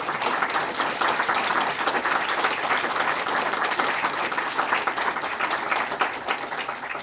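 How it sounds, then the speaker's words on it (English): An audience gives a sustained round of applause after a distinguished address talk in Bristol, dense steady clapping from a large crowd filling the whole stretch. "can we please give him a massive round of applause?"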